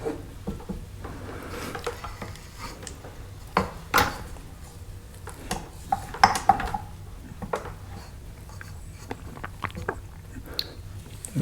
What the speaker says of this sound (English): Scrape it off the sides.